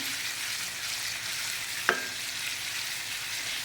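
Paneer pieces frying gently in a pan, giving a steady close sizzle with a single sharp clink of a utensil partway through and no talking.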